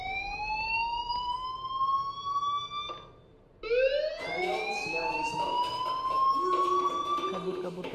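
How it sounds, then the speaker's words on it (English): Fire alarm in the video game Life is Strange, a loud, continuous wailing electronic tone that cuts out briefly and then resumes rising and sustained. "Hey, do you hear that fire alarm?"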